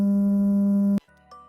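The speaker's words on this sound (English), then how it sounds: "100 hertz is the high end of gamma waves. They sound a bit like this." A steady synthetic low tone meant to represent gamma brain waves around 100 hertz hums evenly and loudly for about a second, then cuts off abruptly, leaving faint quieter tones.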